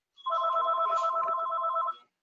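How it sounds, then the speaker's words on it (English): A mobile phone rings once in a short, loud electronic trill lasting about two seconds, close and alone. "Sorry, my phone's ringing."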